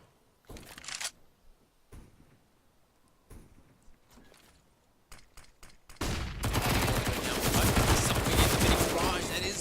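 MP9 submachine gun fire in a CS:GO match on the map Nuke, with scattered distant shots and clicks before a sustained loud burst of automatic gunfire that fills the second half.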